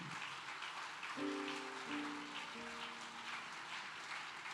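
A church congregation at a service in Accra claps steadily, a dense, continuous patter of many hands with sustained keyboard notes held over it.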